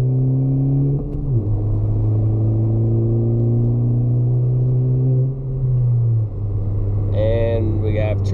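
A 10th-generation Honda Civic in sport mode accelerates uphill, its engine note climbing steadily in pitch, then dropping and rising again around a gear change, loud and close from inside the cabin while someone talks over it.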